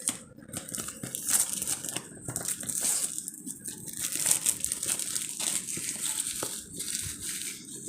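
Plastic and paper packaging from a Flipkart parcel crinkles and tears continuously while an LED table lamp is unboxed, with close, busy rustling bursts throughout.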